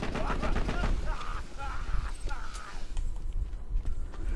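Rapid gunfire from a fast-shooting gun in Borderlands 2, a dense rattling burst mixed with busy game effects and a voice talking over it.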